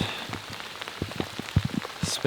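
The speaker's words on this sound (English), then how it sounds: "I love being out in the rain." Steady rain falling in a forest where great gray owls are being photographed, a dense patter of drops with a few heavier, closer splats against a constant wet hiss.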